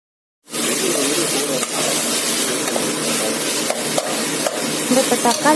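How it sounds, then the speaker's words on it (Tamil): Chopped tomatoes sauté in a pan for broken wheat kichadi, giving a steady close sizzle that starts abruptly and continues with soft stirring scrapes throughout. "நம்ம வெட்டி வச்சிருக்க தக்காளியும் இது கூட சேர்த்து நல்லா வணக்கிக்கணும்"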